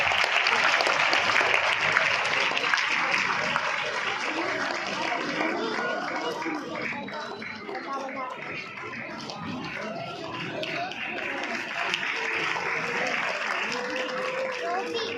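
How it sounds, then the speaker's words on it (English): Sustained applause from a large audience at a school annual day, dense clapping that holds steady throughout, with crowd voices mixed in. "Clapping should not stop, everyone."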